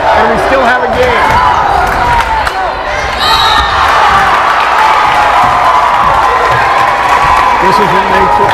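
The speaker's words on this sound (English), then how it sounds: "We have some chants going back and forth between the boys' teams." Crowd chanting at a boys' basketball game in a gym, a loud continuous wash of voices and cheering with sneaker squeaks and bounces mixed in and talk over it.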